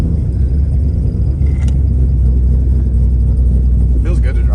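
A built Pontiac WS6 engine runs on a dyno with a loud, close, deep rumble that holds steady throughout, and a short burst of higher sound comes near the end.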